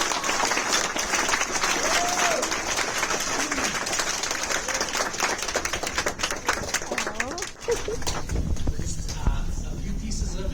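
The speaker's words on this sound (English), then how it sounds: "Let's have another big, huge round of applause." Audience applause at a U.S. citizenship ceremony, dense sustained clapping from a large crowd over about ten seconds, with scattered voices and cheers mixed in and a brief dip before it carries on.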